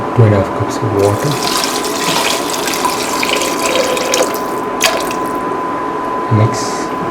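Water splashes into a pot of rice mixed with tomato and potato, a steady close rushing pour with a few clinks and knocks of the vessel against the pot.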